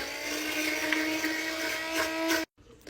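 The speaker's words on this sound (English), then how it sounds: "I'm just gonna stick my immersion blender in, turn it on, and start blending up the soup." Immersion blender running in a pot of broccoli cheddar soup, a steady whirring motor hum with a high whine that holds for over two seconds and then cuts off abruptly.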